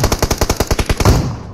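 Gunfire from a shotgun in the mobile battle royale game PUBG Mobile, a loud close string of about ten sharp, evenly spaced shots in quick succession, alone with no voices.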